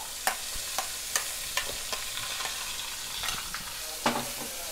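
Ground garlic chutney frying in a pan, a steady soft sizzle with repeated sharp clicks and scrapes of stirring at an irregular pace.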